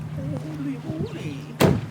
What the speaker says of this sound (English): Now the door should shut.